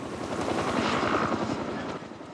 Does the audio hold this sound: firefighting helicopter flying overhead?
yes